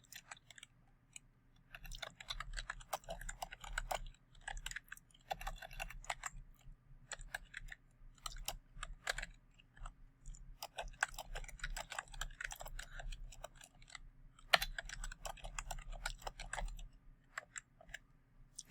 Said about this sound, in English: all I have to do is then just start typing and the Greek text goes away